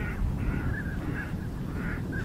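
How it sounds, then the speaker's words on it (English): Pintail ducks in the open countryside give several short, soft whistling calls over a steady low background rumble, at moderate distance. "These pintails especially, I love the way they sound."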